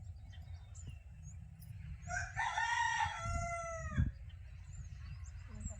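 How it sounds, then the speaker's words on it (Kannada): A single rooster crows once, clear and fairly close, over a low background hum and faint rustling. "ಕೋಳಿ ಕೂಲಕ್ಕೆ ಚಾಲು ಮಾಡಿಬಿಡ್ತಾವೆ"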